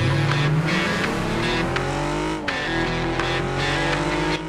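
A car engine in the night-circuit racing game Super Street drones loudly and continuously, its pitch rising and falling as it revs, with brief tire squeals and no talk over it.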